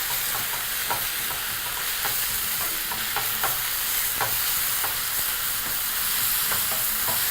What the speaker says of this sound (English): Proceed to continue mixing that continuously.